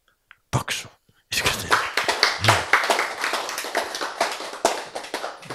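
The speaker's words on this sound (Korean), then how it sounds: "박수." An audience claps hands at a church lecture, a short burst of rapid claps after a pause, then a sustained round of brisk, fairly close clapping that continues to the end.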